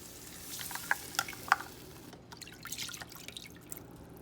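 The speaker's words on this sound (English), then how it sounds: "Next I'm going to add in 2 cups of whole milk." Whole milk poured into a pan for a cheesy jalapeño chicken pasta sauce, a soft liquid splash with a few small clinks early on, then steady low sizzling and faint stirring, close by with no voices.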